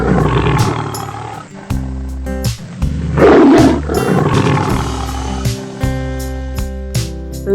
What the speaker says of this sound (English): Wow, tiger, tiger, very nice.